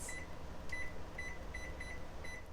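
An oven timer on a kitchen stove is set for breakfast pizza, giving a series of short, close electronic beeps in quick pairs over a steady low kitchen hum.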